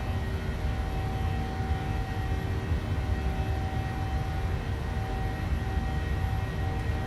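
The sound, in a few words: Boeing 737-700 departure in Microsoft Flight Simulator video game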